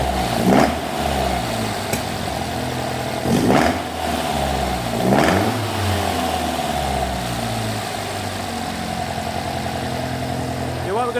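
A classic Alfa Romeo GTV engine runs just after a head gasket replacement, idling close by with several sharp revs that rise and fall, while a person talks over it.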